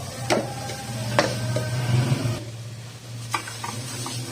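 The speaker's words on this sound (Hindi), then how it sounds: "मैदा डाल के इसको मैं अच्छे से भून लूंगी।" Flour roasting in oil and desi ghee on a low flame gives a soft, steady sizzle with a few sharp taps of a spoon stirring against the pan, close and quiet, no talk.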